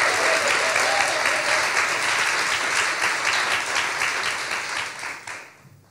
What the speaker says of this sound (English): So let's have a round of applause for that.